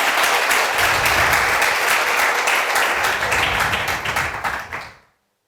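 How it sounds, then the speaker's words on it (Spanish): A worshipping congregation applauds, a thick, sustained wash of many hands clapping at full strength before it tapers quickly and stops. "Dale un aplauso al Señor."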